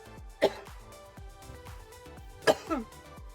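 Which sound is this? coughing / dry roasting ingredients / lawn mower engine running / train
coughing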